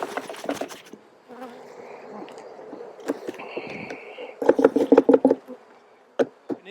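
Honeybees buzz around an Ohio hive in fall drought conditions, a faint steady hum with a couple of closer fly-bys, broken by sharp clicks and knocks of hive handling, with no talking.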